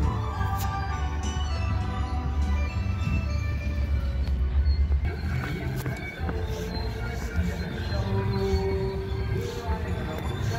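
The CPKC holiday train rumbles steadily into Montreal West Station with a low mechanical roar, clanking and rattling, loud and close throughout, with faint chatter in the background.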